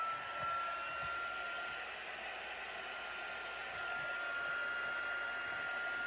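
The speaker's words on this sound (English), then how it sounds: "This one has two settings, and I'm going to use the high one because I want to emboss." A Stampin' Up! embossing heat tool runs steadily on its high setting, a continuous loud hair-dryer-like whoosh with a faint whine, holding level throughout with no talk.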